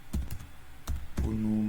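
A few separate keystrokes and thumps on a computer keyboard sound close and clear, followed by a brief hum, with no voice heard.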